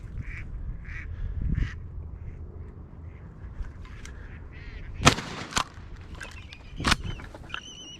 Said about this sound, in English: That was a drake.